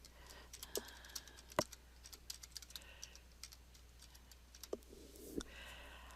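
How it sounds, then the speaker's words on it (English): Quiet computer keyboard typing: scattered light key clicks at an uneven pace, with a few sharper, louder taps, close by in a calm room. "So if I start typing"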